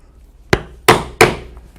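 Three sharp, close hammer strikes on a 1/8 inch hole punch driving rivet holes through a leather belt, the first lighter and the next two loud, each with a short ringing decay.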